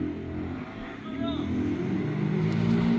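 Racing cars rev hard and roar past in a steady, loud engine drone, with a higher engine whine sweeping through partway and a voice speaking over it.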